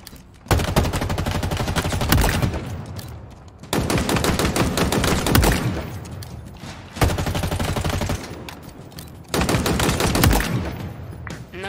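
Rapid automatic gunfire in Halo Infinite's target-practice academy, four long bursts of loud, sharp shots separated by short pauses, with no talking over them.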